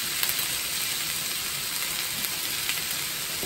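Shrimp seasoned lightly with salt and pepper sizzles in a hot pan while being cooked for a coconut simmer dish, a steady close crackling hiss with no talking.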